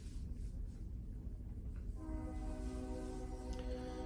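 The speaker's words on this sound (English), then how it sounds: "Train's going through." A train passes with rumbling rail noise throughout, then its horn sounds steadily and loudly from about two seconds on, close by and without talk.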